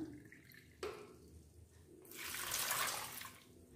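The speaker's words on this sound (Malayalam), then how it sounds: "അതിൽ ഒരു ഗ്ലാസ് വെള്ളം ഇതിലേക്ക് ഒഴിച്ചു കൊടുക്കുന്നു." Water from a glass is poured into a pressure cooker holding mango pieces: a faint knock, then a brief splashing pour that swells and fades, with no voices.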